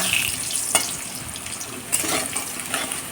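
Potatoes fry in a pan with turmeric and a little salt, giving a steady close sizzle with two brief clinks as they are stirred and turned.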